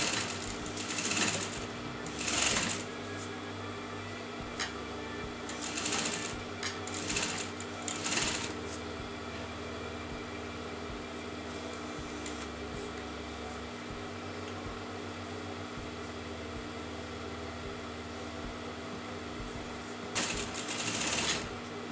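A sewing machine stitches a frock, its motor whirring in a steady drone with brief louder bursts of rapid needle clatter now and then, close by and without talk.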